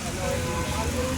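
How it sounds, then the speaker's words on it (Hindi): Heavy rain pours down outdoors in a steady, dense, loud hiss that fills the whole brief moment. "बारिश कितनी तेज़ हो रही है भाई।"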